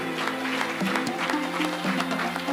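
Steady applause from an audience at a live finale event, dense and sustained throughout, with a faint voice over the clapping.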